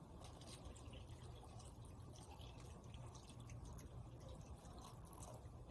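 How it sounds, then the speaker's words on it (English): Water poured slowly from a one-cup measure into a clear container packed with see-through marbles, making a soft, continuous trickle and faint dripping that runs steadily at low volume with no voices. "I pour 1 cup of water slowly into the container, and then I stop once the water starts puddling at the top"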